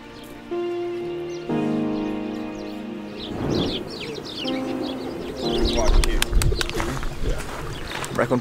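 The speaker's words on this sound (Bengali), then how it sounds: "এর পিছনে অনেক কবুতর যেরকম দেখতেছেন আপনারা।" Pigeons coo at Pigeon Valley lookout in Cappadocia, soft repeated calls mixed with chirps, wing flaps and outdoor clatter, while people talk nearby.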